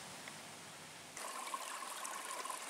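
A babbling stream along a mountain hiking trail at Sharp Top, Peaks of Otter, Virginia, gives a soft, steady rush and trickle, faint and continuous, growing a little brighter partway through, with no talking.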